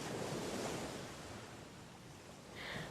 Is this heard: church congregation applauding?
no